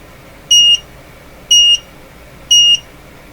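Electronic meters on a DIY vacuum tube testing bench beep in a steady rhythm, three identical short tones spaced one second apart, loud and clear over a quiet room.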